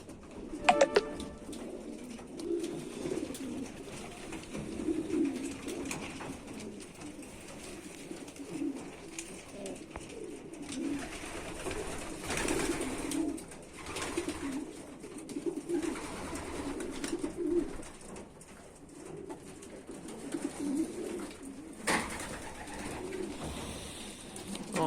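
Pigeons coo softly and continuously in a low murmur, several birds close together, with occasional flutters and small knocks around them.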